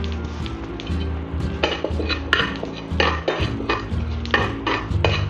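Cardamom, cloves and fennel seeds dry roasting in a pan, a soft sizzle under repeated metallic scrapes and clinks of a spoon stirring against the pan in an irregular rhythm, close up with no talk.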